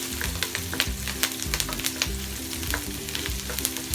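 Onions fry in a pan while cooking Creamy Chicken Pastel, a steady close sizzle broken by sharp scraping and stirring clicks, with low tonal music running underneath throughout.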